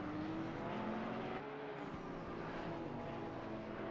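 A Porsche 949 race car in a sim racing game at Imola roars past, its engine note rising and falling with shifts and a brief tire squeal over steady, dense racing noise.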